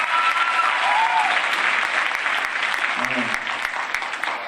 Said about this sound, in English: let's give a round of applause for Mr. Z